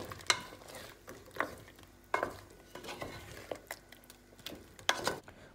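Mutton korma gets stirred in a pot, a spoon scraping and knocking against the metal in uneven bursts over a low simmer, close by with no speech.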